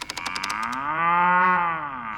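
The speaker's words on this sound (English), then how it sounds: "This is a cow." A cartoon cow gives one long, loud, drawn-out moo that rises and then falls in pitch, heard close and alone after a brief run of quick clicks.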